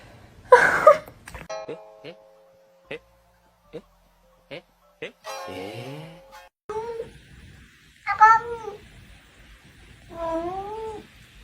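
A kitten meows and cries in a series of short, rising wails, some drawn out and wavering, with sharp high clicks or chimes in between and brief voices nearby.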